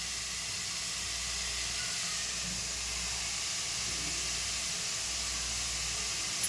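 Grated bottle gourd fries in hot ghee in a wok with a steady, even sizzle and hiss that holds throughout, no voices present.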